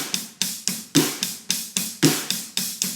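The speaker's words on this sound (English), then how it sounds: "kick and snare pattern, but you have an open hi-hat on the downbeat." Drum kit plays a steady kick and snare groove with an open hi-hat washing on the downbeats, about eleven evenly spaced hits over three seconds, crisp, loud and close.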